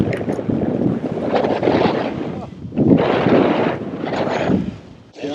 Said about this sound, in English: Oh man, it's a lot of wind. It really piped up.